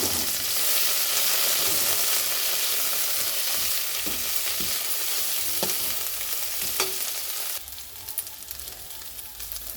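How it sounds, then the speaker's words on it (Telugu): Cumin seeds fry in oil for a tomato, mint and coriander chutney, giving a loud, continuous, close-up sizzle with occasional small pops that thins slightly near the end. "ఇప్పుడు జీలకర్ర వేసేసానండి"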